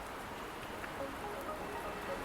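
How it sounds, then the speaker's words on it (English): Steady, soft rain patters continuously on surfaces in the video game Wuthering Waves, forming an even hiss with scattered drops and no other sounds. "Don't worry, the rain won't last much longer."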